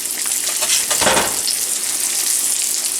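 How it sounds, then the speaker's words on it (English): Fish fillets sizzle loudly in a hot frying pan, a steady broadband hiss with a sharp surge of spatter as they hit the oil, then settling into continuous frying close by. "Starting to sizzle."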